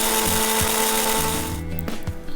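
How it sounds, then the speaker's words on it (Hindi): An electric grinder whirs through chili, cumin, cinnamon and small green cardamom for a chicken korma spice mix. The motor is loud and close and starts to wind down near the end. "और दालचीनी और 4 से 5 छोटी इलायची, इन सबको आप ग्राइंड कर"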